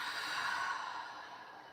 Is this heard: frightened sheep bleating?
no